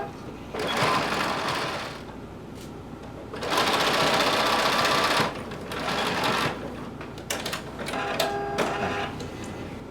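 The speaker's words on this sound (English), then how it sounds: "starting at the bottom again, I want you to sew the last side seam" Sewing machine stitching the final side seam of a DIY top with leather accents, running in several bursts of rapid mechanical whirring separated by short pauses, close and clear, with faint room sounds between runs.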